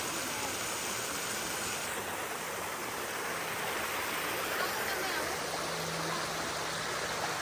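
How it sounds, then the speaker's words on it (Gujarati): A waterfall in Brisbane, Australia roars as a dense, continuous rush of water, even and unbroken from start to finish. "હો કેવું છે ને? વોટરફોલ જ છે ને?"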